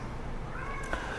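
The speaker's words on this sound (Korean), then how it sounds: "벌써 우리 고양이가 설교에 반응을 하고 있죠." A pet cat meows once during a church Sunday sermon, a short rising cry near the microphone heard over a quiet room hum.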